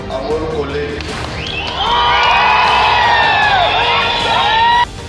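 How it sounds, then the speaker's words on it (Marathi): A political rally crowd erupts in loud, sustained cheering and whooping at the mention of Amol Kolhe, swelling midway and holding steady before cutting off near the end. "कोल्हेंचं नाव घेताच जल्लोष"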